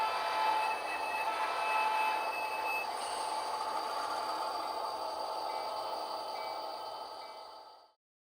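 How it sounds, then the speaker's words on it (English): A model train runs on a DCC-EX layout, giving a steady whirring rumble with faint high tones that hold for several seconds and then fade out to silence, with no talking. "so let's go run some trains."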